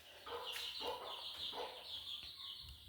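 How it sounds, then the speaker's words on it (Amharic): Backyard chickens clucking and calling in a steady, close run of short overlapping notes, with no talk over them. "የአብድረዛቅ ዶሮዎችን ላሳያችሁ ጉዳያቸውን።"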